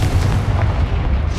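A Confringo blasting spell in Hogwarts Legacy lets off a loud, sustained rumbling explosion with deep booming low end and crackling texture, close and alone.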